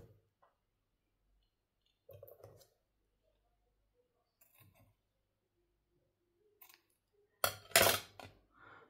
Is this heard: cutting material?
yes